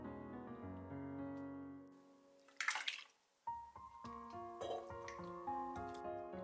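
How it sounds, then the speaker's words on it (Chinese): Pork ribs washed by hand in a bowl of water, with sloshing, dripping and wet squelching close up, a brief splashy burst in the middle and clinking after. "洗干净以后再给它捞出来，再用温水多清洗2遍。"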